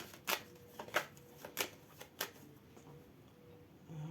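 Tarot cards shuffled by hand for a reading, a few crisp riffling bursts and card flicks close to the mic, spaced out over a few seconds before trailing into quiet.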